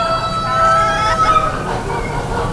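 A blue silver modern game bird clucking in a fair animal barn, with continuous busy barn noise and other fowl calls throughout.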